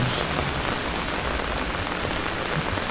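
Steady, dense rain patters on surfaces close by at night in Dieng, a continuous hiss with no pauses.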